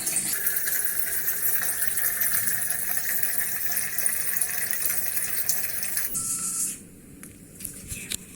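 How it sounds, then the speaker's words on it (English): Tap water pours steadily through an automatic water filler into a container, a loud continuous rushing stream that cuts off abruptly near the end, leaving quieter faint sounds. "It beeps and starts filling water."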